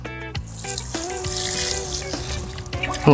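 Water poured onto soil while planting a lime tree in a basket: a steady, close stream of running and gurgling water that rises in pitch as it fills.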